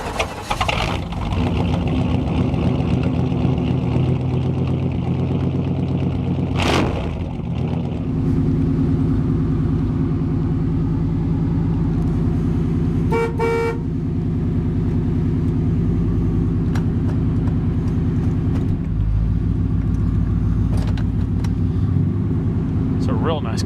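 A 1991 Chevrolet Silverado pickup idles after a cold start on a freezing morning, a steady low engine rumble running throughout with a few brief clicks and a voice talking over it.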